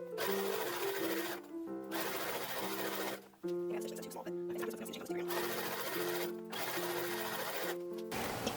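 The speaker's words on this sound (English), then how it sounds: "Now we can start sewing. Just do our little 2-inch hem all the way around." A sewing machine runs a 2-inch hem around an infant dress, whirring in steady bursts with brief pauses between runs and a voice talking over it.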